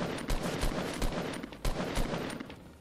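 Gunfire in Fortnite Battle Royale, with repeated sharp shots at an uneven rhythm, roughly eight or nine cracks over a few seconds, moderately loud against steady background game noise.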